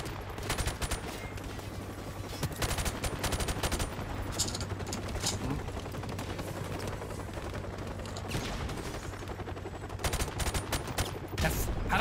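An MP5 submachine gun in Call of Duty: Modern Warfare Remastered fires in dense, continuous bursts, loud and close, with a steady low background hum behind the shooting.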